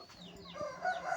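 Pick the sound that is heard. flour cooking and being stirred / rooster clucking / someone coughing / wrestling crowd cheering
rooster clucking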